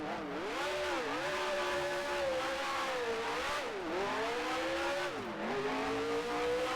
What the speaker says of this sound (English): I'll say for the default sounds, the Brabham here sounds pretty dang good.